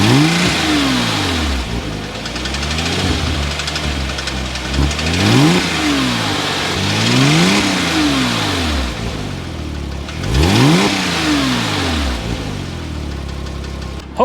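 A Porsche Cayman S engine with a suspected fault revs repeatedly over a steady idle, rising and falling in several loud, close sweeps, with a rough, knocking undertone between the revs.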